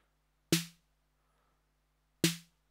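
A snare from a Roland TR-8 drum machine, snappy and tune knobs at twelve o'clock with decay turned all the way up, hits twice about two seconds apart, each a sharp crack with a short ringing tail, alone.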